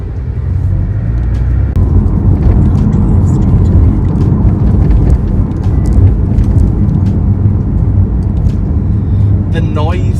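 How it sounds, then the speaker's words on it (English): Cabin of a Porsche 718 Cayman S with PDK gearbox and Sport Chrono while driving: loud steady low road and engine rumble throughout, with occasional clicks and a short chirp near the end. "The noise inside the cabin of the 718 Cayman S is a bit of a different story. It's quite loud."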